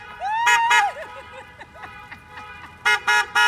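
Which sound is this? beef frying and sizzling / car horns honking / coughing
car horns honking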